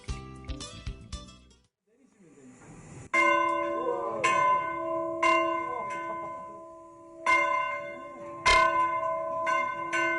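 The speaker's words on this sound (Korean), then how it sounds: "일제시대 때부터 어김없이 울리는 종소리" A church bell on a clean island rings in several loud, resonant strikes with long sustained humming tones decaying between hits, after a brief opening clatter.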